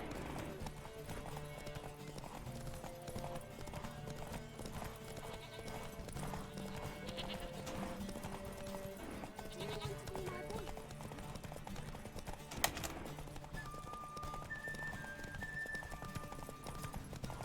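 Roach the horse galloping in The Witcher 3, giving a steady rhythmic clip-clop of hooves under game music and a talking voice, with a brief sharp impact partway through.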